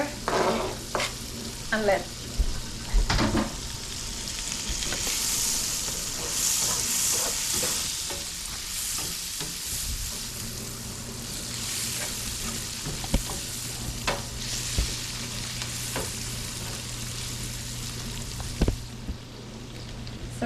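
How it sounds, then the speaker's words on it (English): Onion sautéing in butter in a pan, a steady close sizzle and crackle running throughout, with occasional stirring scrapes and clinks and no talk. "So we're going to saute the onion in butter."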